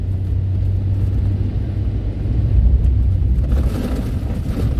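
A car drives along a snowy road during heavy snowfall in Germany, its engine and tyres making a loud, steady, close rumble that swells slightly midway, with no talking.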